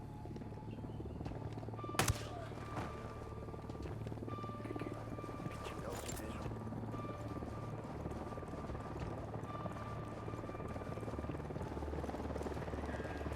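A helicopter drones overhead as a steady, low rumble with a faint whine, continuous and fairly distant, with a brief sharp knock early on.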